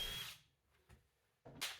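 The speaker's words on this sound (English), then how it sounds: "there is not a screw period that I'm sinking into this wood without pre-drilling every single hole" A power drill bores pilot holes into old wood salvaged from a collapsed 130-year-old barn, with two short, loud whirring bursts at the start and end, separated by a near-silent pause.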